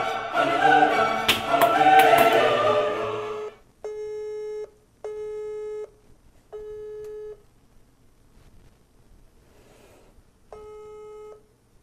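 A phone call rings out unanswered: a few seconds of loud voice and music, then repeated steady ringback tones in evenly spaced bursts with near silence between them.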